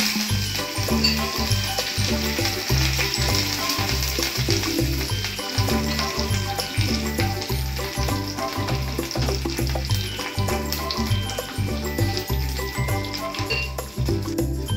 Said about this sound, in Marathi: नंतर जिरं घालते, मिरची आणि हा कढीपत्ता.